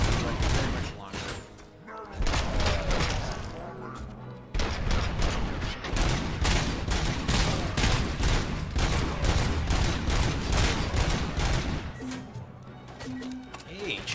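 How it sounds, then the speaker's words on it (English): RoboCop's gun fires in Robocop: Rogue City, a long run of loud, rapid, evenly spaced shots with a brief break, while a voice talks over the gunfire. "I'm shooting you in the face"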